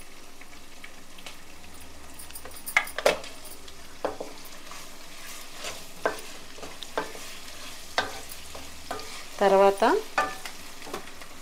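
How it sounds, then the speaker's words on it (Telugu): Turmeric and rock salt sizzle in oil in a pan under intermittent spatula stirs and clinks, with a brief burst of louder scraping near the end, while someone speaks a word. "పసుపు వేగుతుంది కదా"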